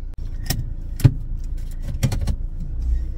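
Car interior on a test drive with new tyres filled with nitrogen, with a steady engine and road hum, a few clicks and knocks, and a light jangle, with no talking.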